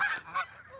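Alarmed pet geese, scared by a dog, give two close, loud honks in quick succession, the second following a brief dip.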